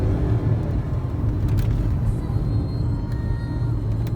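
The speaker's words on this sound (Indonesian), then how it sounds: "Ini yang saya suka dari mesin V6, dia suaranya merdu walaupun knalpotnya masih standar." Mercedes-Benz E260 W211 with a V6 engine under acceleration on a rough road with a stock exhaust, heard as a steady low in-cabin rumble that stays at an even level throughout.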